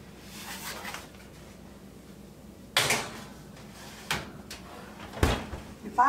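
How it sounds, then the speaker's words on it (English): An oven door opens and shuts as a sheet pan of Tex-Mex quesadillas goes in, giving a few sharp clanks and thuds amid a quiet kitchen, with a louder bang near the middle. "So let me get them in the oven."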